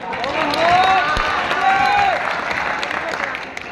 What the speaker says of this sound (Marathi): आपण बाबूराव या विद्यार्थ्याचं टाळ्या वाजवून स्वागत करूया